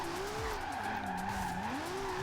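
Tires screech in a sustained wavering squeal as a Nissan Skyline with maxed-out horsepower drifts in Forza Horizon 2, the engine droning steadily underneath the slide.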